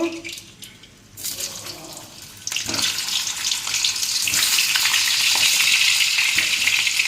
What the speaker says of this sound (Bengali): এবার ওই তেলেই এই সিদ্ধ আলুগুলো একটু ভেজে নেব